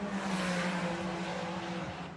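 A Ferrari racing car on a circuit in tricky conditions, its rear end stepping out in a slide, heard as a steady engine drone with a faint tire hiss, fairly distant and without talk.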